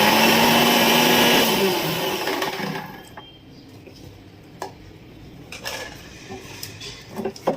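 A kitchen mixer grinder runs loudly while it grinds a stuffing of coriander, garlic and cumin for bitter gourd, then stops. Faint clicks and handling noises follow in the quiet.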